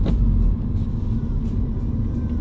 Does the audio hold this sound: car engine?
yes